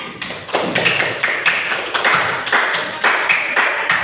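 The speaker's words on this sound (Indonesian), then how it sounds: "Ya, tepuk tangan." Schoolchildren in a classroom clap their hands in unison, about eight sharp, evenly spaced claps in a steady rhythm, close and fairly loud, with no talking.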